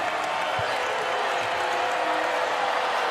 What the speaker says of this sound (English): Crowd is up and roaring.